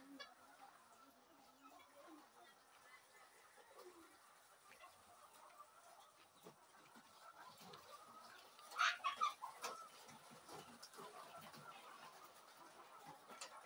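Farm chickens heard at a low level amid a quiet outdoor background, with a brief louder burst of clucking calls midway.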